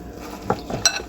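A spoon stirs a sushi rice mixture with sriracha in a bowl, giving two or three short scraping and clinking strokes, close and fairly soft.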